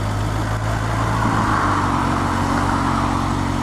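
A 2018 Kawasaki H2 SX SE motorcycle riding at low speed, a steady engine drone under rushing wind noise, continuous and fairly loud throughout, with no voices.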